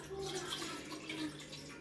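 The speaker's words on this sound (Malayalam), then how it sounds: "ഇതിലേക്ക് നമുക്ക് കുറച്ച് വെള്ളം ഒഴിച്ച് കൊടുക്കാം." Water poured into a cooking pot in a home kitchen, a steady low rushing splash with faint trickling, continuous and fairly close for the whole moment.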